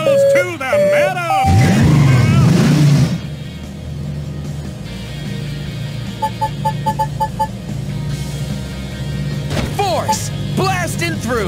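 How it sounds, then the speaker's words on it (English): Monster truck in the Blaze and the Monster Machines racing game smashing through barrels, with a rising engine whine, sharp thuds and crashes, then chiming game effects and cartoon voices talking over the action. "Use force to blast through barrels"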